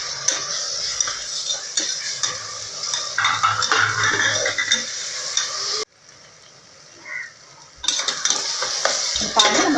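Tomatoes sautéed with onions in a pan for veg biryani: loud close sizzling with spatula scrapes and clinks, a sudden drop to near quiet for two seconds, then the frying resumes.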